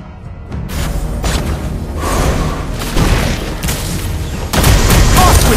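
A turret being destroyed in the video game Mobile Legends, with layered booms, thuds and whooshing blasts building in loudness, ending in a heavy close burst amid continuous battle clatter.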